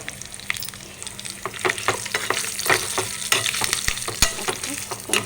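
Spices for tempering sizzle and crackle in hot oil in a pan as they are stirred, with steady frying and scattered clicks and pops, no talk.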